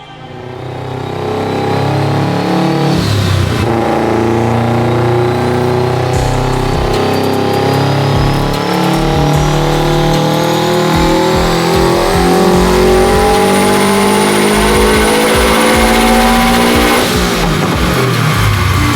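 Fully built Subaru STI engine on a dyno pull, loud and close, revs climbing steadily for about fifteen seconds with a rising engine note, then dropping off sharply near the end.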